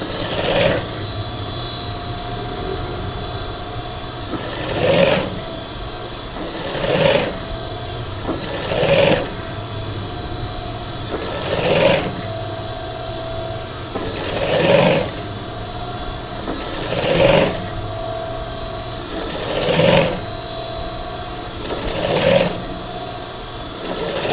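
A sewing machine stitches a collar during assembly, a continuous close mechanical whir with regular louder surges roughly every two to three seconds, and no talking.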